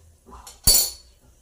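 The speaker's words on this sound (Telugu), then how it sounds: "ఇప్పుడు మూత పెట్టేద్దాం." A metal lid is set onto a pot of popcorn, giving one sharp clank with a short ringing tail after a faint scrape, close and alone.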